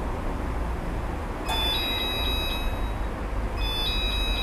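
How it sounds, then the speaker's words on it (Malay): A pressure fryer's timer alarm sounds when cooking is done, giving thin, high electronic beeps in two bursts over a steady low kitchen hum. "sekarang ni dia punya alarm dah bunyi"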